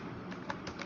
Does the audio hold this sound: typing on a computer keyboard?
yes